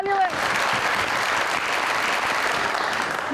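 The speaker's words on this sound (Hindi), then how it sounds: "आ जाओ बहुत सारी तालियां है।" Studio audience applause on a Pakistani evening talk show, a thick, even wash of many hands clapping at full strength throughout, with a brief voice at the start and a short tonal sound near the end.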